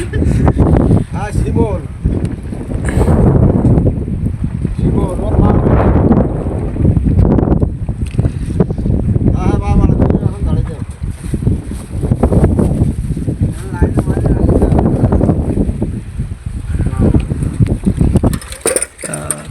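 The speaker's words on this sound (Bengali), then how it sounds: "দেখা তুফান হচ্ছে প্রচুর" Storm wind at sea buffets a fishing boat, a rough gusting roar that surges and falls in waves and batters the microphone, loud and continuous throughout.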